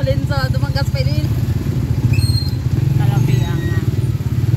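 Motorcycle engine running in traffic, a steady low rhythmic putter with harmonic buzz throughout, close by, with some talk and brief higher tones over it.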